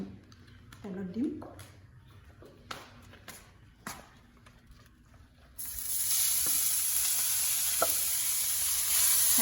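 A paste of ground onion, ginger and garlic hits hot mustard oil in a home kitchen, bursting into a loud, steady sizzle partway through after quieter taps and stirring sounds, continuing close and strong to the end.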